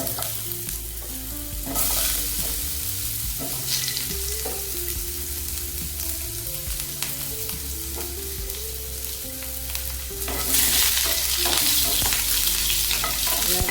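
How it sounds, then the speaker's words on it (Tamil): Large-cut onions dropped into hot oil for brinjal curry, a loud hissing fry with stirring scrapes and a strong burst of sizzle near the start and again toward the end; background music plays under it. "எண்ணெய் காஞ்சோன்னா கட் பண்ண வெங்காயம் பெரிய சைஸாக போட்டுக்கலாம்."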